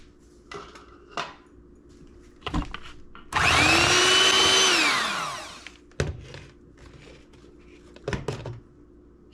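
Electric hand mixer beats cheesecake batter with an added egg in a loud, steady whir lasting about three seconds, set between quiet clinks and knocks of a bowl and utensils.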